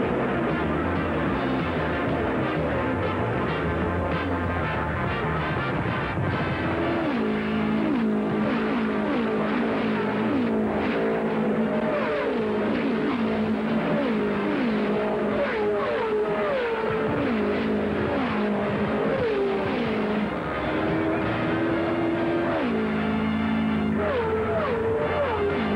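Race cars at the 1972 Indianapolis 500 roar steadily past, overlapping engine whines rising and falling as cars sweep by, loud and continuous with no talk.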